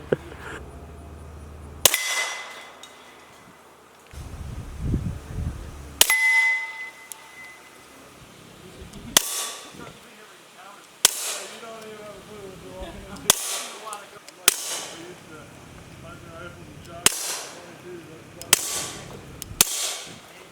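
SilencerCo Maxim 9 integrally suppressed 9mm pistol firing a string of about nine sharp, clanging shots at irregular intervals, close and loud, with quiet gaps between them.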